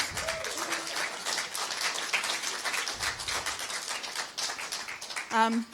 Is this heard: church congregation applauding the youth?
yes